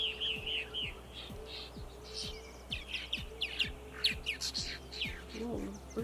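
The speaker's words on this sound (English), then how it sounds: "Whoa, birds are losing their minds." Birds in a reed bed chirp and twitter in quick, overlapping bursts, fairly faint and distant, over a steady pulsing background.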